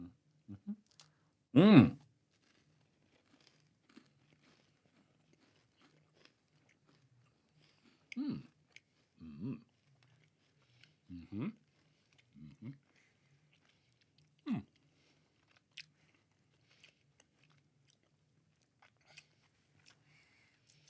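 Bites into a coconut biscuit: one sharp crunchy bite near the start, then a series of soft, close crunching chews spaced out over quiet, with a brief murmur of voice.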